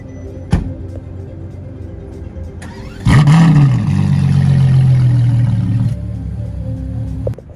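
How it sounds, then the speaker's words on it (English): A wide-body blue Lamborghini Urus with carbon trim starts up nearby with a sharp bark, then holds a loud, steady engine drone for about three seconds before cutting back, with a couple of brief clunks around it. "Here comes the wide body blue Urus from last night with all the carbon"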